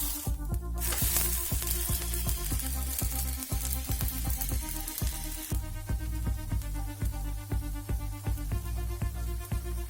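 A coconut roll sizzles in ghee in a pan, a loud continuous hiss and crackle with repeated scraping and stirring clicks throughout, no voices.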